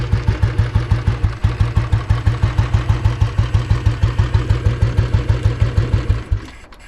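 A Royal Enfield motorcycle engine idles close by with a steady, loping single-cylinder thump, evenly spaced beats continuing for several seconds before cutting off abruptly.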